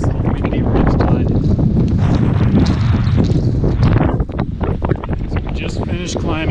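Strong wind roars and buffets the microphone on a cold, exposed alpine ridgeline along the Pacific Crest Trail near Yosemite, loud and continuous with gusty surges.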